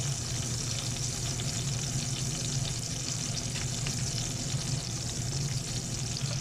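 A bay leaf fries in hot oil for Pakistani murgh cholay, giving a steady, dense sizzle that holds evenly throughout, close and moderately loud with no talk.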